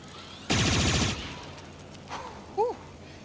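Rapid automatic gunfire in the Star Wars Outlaws video game, one loud sustained burst lasting about half a second, followed by quieter mechanical sounds and a short rising whistle-like tone.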